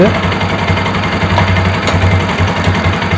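An idling Bajaj NS 200 motorcycle engine, just refitted, chugs steadily up close, a low rhythmic putter with a mechanical rattle over it.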